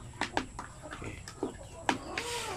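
Chickens of a large breed known as poor layers cluck in short, separate calls at moderate volume, several clucks spread irregularly across a quiet farm background.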